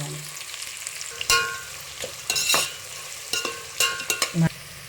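Onions and green chilies frying in ghee with garam masala for vegetable biryani, with a close sizzle broken by several loud bursts of stirring and spattering.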